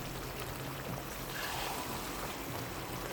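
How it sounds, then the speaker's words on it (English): Water poured into a pan of homemade curry sauce gives a soft, steady splashing trickle, close and continuous with no voices. "And we're going to add some more water"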